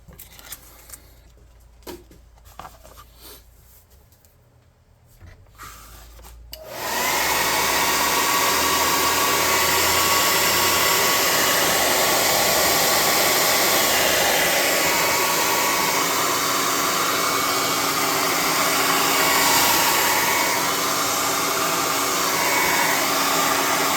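Hair dryer blowing air to dry paint on a tabletop miniature walker model, switching on after a few quiet seconds of faint handling noise and then roaring loud and steady until the end.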